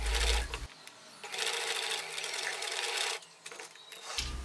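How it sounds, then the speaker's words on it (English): A sewing machine stitches in the fold of bias tape on a shirt seam, giving close, rapid mechanical whirring in two bursts separated by short pauses. "I'm going to stitch in the fold of the bias tape on the seam that we made earlier"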